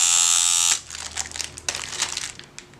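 Swingliner tattoo machine running at about 5.5 volts, a loud steady buzz that cuts off after a moment, followed by faint scattered crackling and handling noises.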